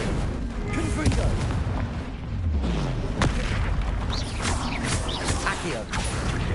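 Repeated Confringo fire-blast spells cast in Hogwarts Legacy, heard as a dense run of booming, crackling magical impacts and mechanical rumbles with sharp transients, loud and continuous, with game voices mixed in.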